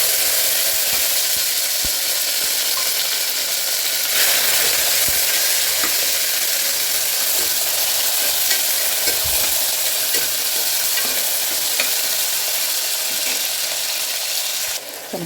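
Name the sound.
onions, tomatoes and curry leaves sautéing in a pan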